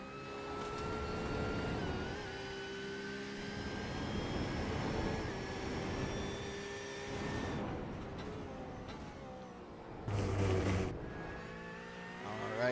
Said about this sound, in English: I think this is a Boxer with the straight cut gears in that transmission. So that whining you're hearing is not me. It is the car. It is the transmission.